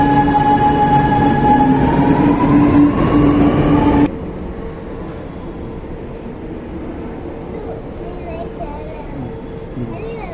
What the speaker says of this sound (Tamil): ட்ரெயின் போயிடுச்சு பாரு